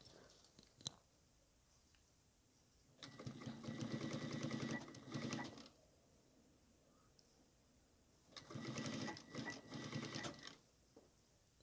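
A sewing machine stitching lace-trimmed fabric for a waist apron runs in two fast, rattling bursts of a few seconds each, separated by quiet pauses with faint handling ticks.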